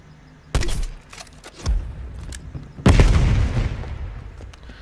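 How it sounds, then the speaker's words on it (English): A spawn tube fired in the game Black Ops Cold War gives a sharp launch thump, then a second impact, then a heavier boom with a rumbling tail, all close and with no voices. "then you're going to walk forward and then shoot your tube like so"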